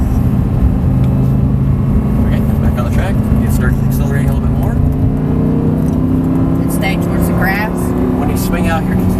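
An Audi R8 accelerates on a race track during an exotic driving experience, its engine droning steadily and rising slightly in pitch from the cabin, loud and continuous, with a voice talking over it at times.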